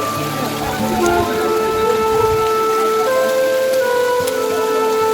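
Heavy monsoon rain falls at Pratapgad fort near a waterlogged temple as a loud, unbroken hiss. Faint voices and some tonal sounds sit underneath.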